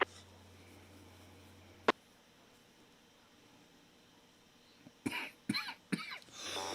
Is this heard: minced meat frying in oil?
no